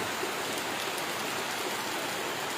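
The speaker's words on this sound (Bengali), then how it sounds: "আষাঢ় মাসের আজ শেষের দিকে প্রচণ্ড বৃষ্টি শুরু হয়ে গেল।" Heavy monsoon rain pours down in a dense, even hiss, a constant wash of drops on surfaces with no voices.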